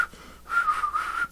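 A person whistles a short, clear tune after a song, a few steady notes close by with no talk.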